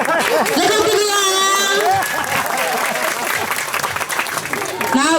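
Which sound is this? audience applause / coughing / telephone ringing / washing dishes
audience applause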